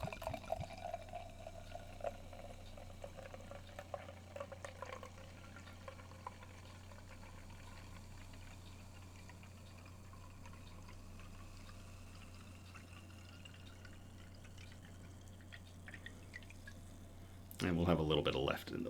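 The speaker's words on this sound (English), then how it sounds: "we'll get into the theatrics of a good 20-second pour" Imperial Stout beer poured slowly into a harpoon snifter glass, a soft steady liquid trickle lasting most of the clip, faint and close, ending with a brief louder clatter.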